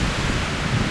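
Strong wind at a winter campsite in the Rocky Mountains, a steady broadband roar with low gusty buffeting across the mic, loud and continuous throughout with no voices.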